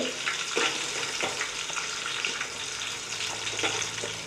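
Onions and green chilies fry in a pan for chicken pulao, a continuous hiss and sizzle broken by repeated scraping stirs every half second or so, close and fairly loud with no talking.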